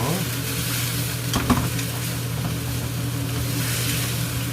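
Stir-frying squid in a pan with oil and chili flakes for Korean ojingeo-bokkeum, giving a steady close sizzle with a brief clatter of stirring partway through, no voices.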